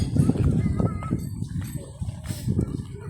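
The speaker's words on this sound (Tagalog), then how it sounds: "May mga kabayo dito." Horses at Villar Farm, with hoof clip-clops and stamping mixed into a busy outdoor scene as people talk over them throughout.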